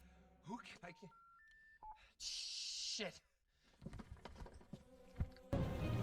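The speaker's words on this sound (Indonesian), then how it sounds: "Selanjutnya Paul menelpon call center perusahaannya karena nomor darurat perusahaannya hilang entah kemana." Telephone keypad tones from a mobile phone in the film Buried, a few short rising beeps as a number is dialed, followed by scraping and movement sounds in a cramped space.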